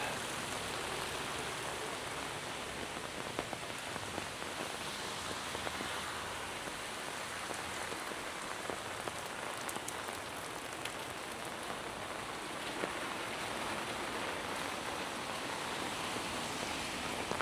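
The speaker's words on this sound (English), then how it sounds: "I think it rains already like a good 30 minutes to 1 hour" Rain pouring in Da Nang, a dense, steady hiss of drops hitting surfaces, unbroken and fairly even for the whole stretch, with no voices.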